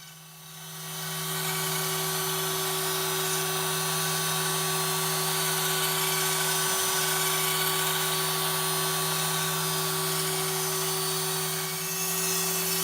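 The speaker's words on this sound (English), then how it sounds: "the CNC does a nice job of carving that radius" A CNC machine carving a 10-inch radius into a guitar fretboard gives a steady, close, continuous mechanical whine with a constant drone underneath and no speech.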